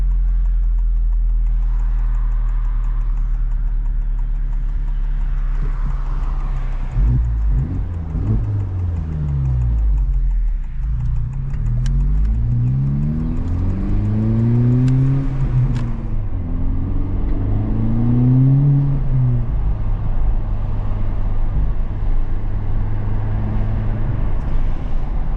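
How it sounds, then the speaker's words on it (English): A Honda Civic Type R FL5 with a front resonator delete and its exhaust valve held open cruises along, a loud close drone with repeated rising and falling sweeps as the engine revs up and shifts through gears. "If you like how the exhaust sounds, this is just a front resonator delete with the valve always open."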